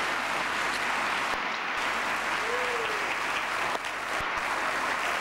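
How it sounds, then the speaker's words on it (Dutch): A studio audience on a 1993 Dutch-language television game show applauds a contestant named Maria, sustained full clapping with a faint voice or tone briefly audible underneath. "Een geweldig applaus, dames en heren, voor Maria"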